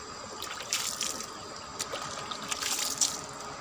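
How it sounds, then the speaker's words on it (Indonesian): Water is poured over gold-bearing soil and rocks, producing a soft, steady trickle and splash with faint spattering peaks, heard close up over a low outdoor background. "Coba kita siram"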